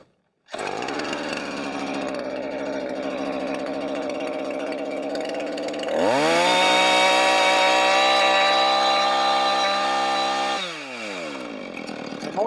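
A chainsaw bites into a log for a squaring cut, idling up then revving hard and steady as it cuts in, the engine note rising loudly midway before dropping back near the end.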